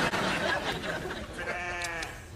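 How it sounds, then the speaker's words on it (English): A sheep bleats in a wavering, drawn-out call that rises clearly near the end, heard up close over a busy indoor background in a sitcom lab scene. "He's a sheep."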